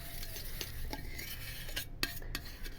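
A utensil stirs thick milk cream (malai) in a small bowl, making soft repeated scraping and light clinks, quiet and close with no talking.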